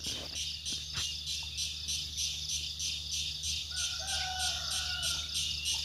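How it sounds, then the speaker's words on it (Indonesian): Rhythmic insect chirring pulses steadily through a quiet forest, and a distant red junglefowl crows faintly near the end, alone without talk. "di sebelah sana itu ada suara ayam hutan teman-teman"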